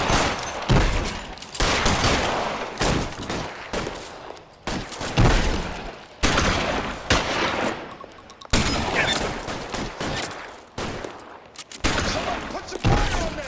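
Dense gunfire rattles through an L.A. Noire shootout as police hold a perimeter. The shots are continuous and loud, with overlapping volleys and rapid bursts that barely pause.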